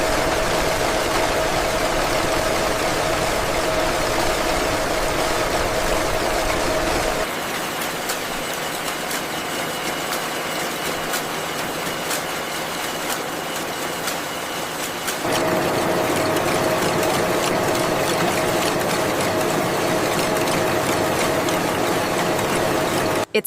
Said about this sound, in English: the bamboo slivers pass through these synchronized industrial rollers, blending the fibers before they are spun into yarn.